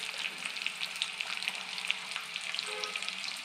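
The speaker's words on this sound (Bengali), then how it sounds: "এবার পেঁয়াজটা লাল লাল করে ভেজে নিতে হবে।" Chopped onions fry in hot oil in a pan, a steady close crackling sizzle with small popping bursts, continuous and fairly quiet with no voices.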